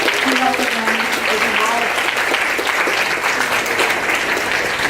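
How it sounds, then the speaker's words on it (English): Welcoming applause for sheriff's department and district attorney representatives at a donation event, steady crowd clapping throughout with voices faintly audible beneath. "So if you give them applause, a round of applause, we welcome them."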